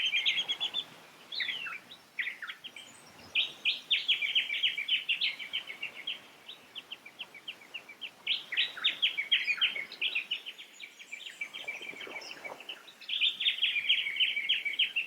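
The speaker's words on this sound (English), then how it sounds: "The distinctive call of the whistling kite is, unsurprisingly, a clear whistle, which begins by descending down the scale, followed by an upscale staccato chatter" A whistling kite calls outdoors in Australian coastal wetland, with clear descending whistles and bursts of rapid, high staccato chatter. The calls repeat in quick runs, separated by short pauses.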